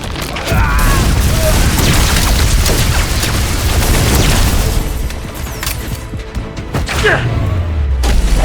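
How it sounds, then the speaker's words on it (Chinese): Heavy gunfire rages through an animated sci-fi space battle, a dense, loud barrage of booms, blasts and mechanical thuds that barely lets up, with voices shouting under it. "继续射击！"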